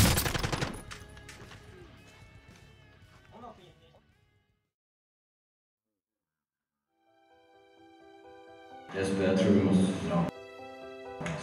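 Bursts of video game gunfire crackle at the start and again near the end, with a quiet gap between them, while players talk over the shots.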